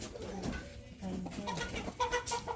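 A hen with her chicks on a rural Thai homestead, clucking softly in short, irregular bursts close by, with faint background noise and occasional louder calls toward the end.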